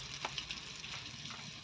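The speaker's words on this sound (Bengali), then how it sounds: "আলু আলুটা বেশ লাল লাল করে আমি ভেজে নেব" Potato pieces seasoned with salt and turmeric fry in a pan, a soft steady sizzle with a few faint spatula scrapes, close but quiet.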